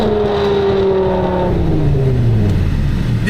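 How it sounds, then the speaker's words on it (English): A car engine revs near the listener with a loud, steady drone whose pitch slides downward as the revs fall, and there is no talk over it. "I was revving up my car"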